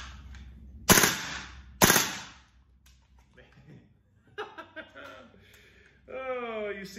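A gas blowback airsoft rifle fitted with the heaviest H4 buffer fires two sharp, loud cracks about a second apart, followed by quiet handling noise, chuckling and talking.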